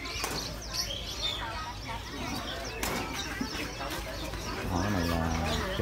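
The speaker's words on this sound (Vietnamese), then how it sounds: "Ở đây người ta bán chim to quá trời các bạn" Birds call at a large bird market in Long An, southern Vietnam, with cooing and chirping scattered through a busy, noisy background while people talk nearby.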